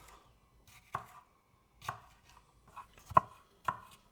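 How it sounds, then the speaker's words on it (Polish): A kitchen knife chops a bell pepper into strips on a cutting board: sharp, isolated thuds spaced roughly a second apart, close and clear against near silence. "Pierwszy sobie potnę w paski, a później w kostkę."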